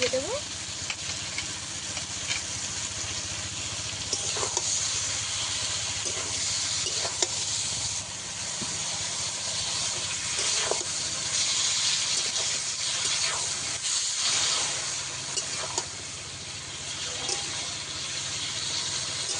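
Poppy seed paste with vegetables frying in a pan: a continuous bright sizzle and hiss runs throughout, with occasional stirring scrapes and a voice speaking faintly in the background.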